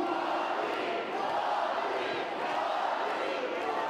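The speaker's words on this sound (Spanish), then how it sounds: "Gracias por sus aplausos" A lucha libre wrestling arena crowd cheering and applauding, a dense continuous roar of many voices and claps, loud and sustained throughout.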